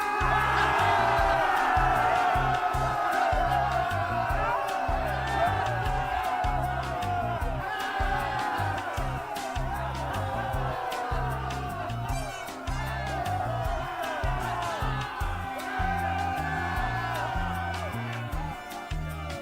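A large crowd cheers and whoops continuously, a dense roar of many voices with scattered shouts rising above it, sustained at steady loudness for the whole stretch.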